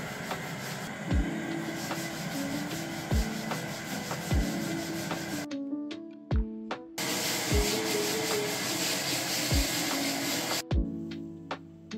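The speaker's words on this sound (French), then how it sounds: "quand on a poncé le reste des étagères, on l'a fait à deux pour que l'un puisse poncer" Wooden shelves being sanded by hand, a steady rasping scrub broken by regular dull knocks, stopping briefly twice while clicks and taps are heard.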